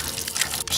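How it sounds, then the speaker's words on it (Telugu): A leaking tap runs water into a sink, a brief close gush of flowing water with a small dip in the splashing near the end. "నువ్వు ఫోన్ చేసినప్పటి నుంచి ఆ ట్యాప్ కారుతూనే ఉంది."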